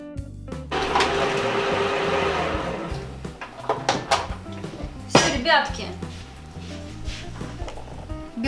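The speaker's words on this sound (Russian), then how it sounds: "В блендер мелко измельчаем и в тарелочку откладываем." Blender finely grinding roasted nuts for baking, a brief loud whirring burst followed by clinks and knocks of dishes and the blender jar, close by.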